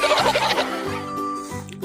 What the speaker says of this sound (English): It's a hen. Yes, it's a hen.